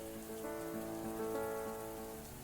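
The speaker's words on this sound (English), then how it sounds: "It's really loud rain" Loud, steady rain pours down in the video game MAMIYA, a dense hiss of drops over a constant tonal music bed throughout.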